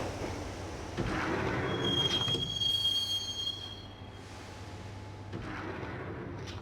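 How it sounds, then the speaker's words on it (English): Interior rumble of a moving subway train in the video game Max Payne, a steady low drone with wheel squeal and a faint high whine, swelling around the middle and easing off, with no talk. "the train doors had already shut behind me, and I was in for the ride."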